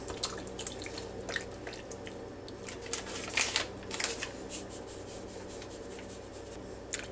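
Lime jello is stirred into a pineapple lime salad in a bowl, making soft wet scraping and squelching sounds in a loose, irregular rhythm, close and quiet with no talking.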